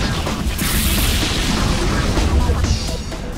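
Fire Style Flame Flower jutsu in the PlayStation 2 game Naruto: Ultimate Ninja 3, a dense roaring burst of flames with booming pops, loud and sustained for a few seconds.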